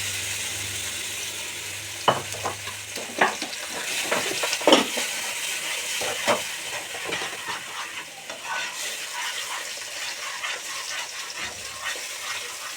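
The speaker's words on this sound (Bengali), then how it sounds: "সেই গ্রেভিটা ঢেলে দেবো।" A cashew, onion and tomato gravy sizzles in a hot pan while it is stirred for a butter chicken masala. Scraping and knocking utensil sounds come at irregular moments over a continuous close hiss, with no talking.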